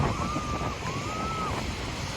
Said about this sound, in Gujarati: મોજા તો જુઓ ખાલી